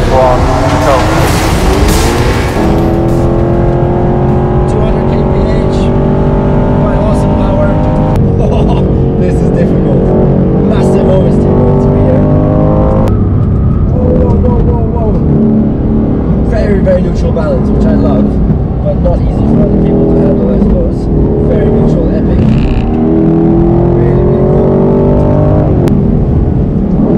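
A 510-horsepower twin-turbo V8 car engine roars continuously through a lap on a Formula One track, revving and shifting with rising and falling pitch, close and loud, with a voice speaking over it.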